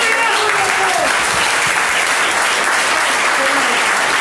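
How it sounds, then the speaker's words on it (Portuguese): A congregation claps loudly and continuously in church during a worship service, a dense, even wash of applause throughout with faint voices mixed in. "Aplaude o Senhor que Ele merece"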